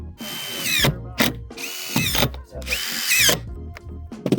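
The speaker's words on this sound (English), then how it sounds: "And then we're putting 4 screws in." Power drill whirring in repeated bursts as screws are driven into a standing seam metal cabin roof, close and loud, with rising and falling motor pitch between short pauses.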